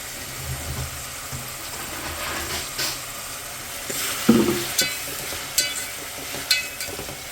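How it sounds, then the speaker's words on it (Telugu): Curdled milk simmers in a pan for palkova with a soft steady bubbling hiss, while a spoon scrapes and knocks against the pan in a few sharp, irregular strokes. "వీటితో నేను పాలకోవా చేద్దామని ఈ పాలను అయితే ఉడికిస్తున్నాను."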